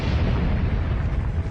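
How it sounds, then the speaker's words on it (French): Explosion effect for a homemade bomb going off in a slum, as one loud, sustained, rumbling blast filling the whole moment with heavy low-end roar. "Puis une bombe artisanale explose dans un taudis, tuant 4 socialistes."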